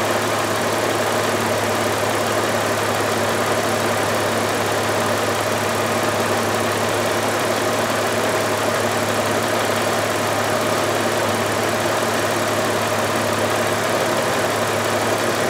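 A 2000 Audi A6 with the 2.8L engine idles steadily with a check-engine light on for a slow-responding bank two oxygen sensor, giving a constant, close, even hum with a low drone and no voices.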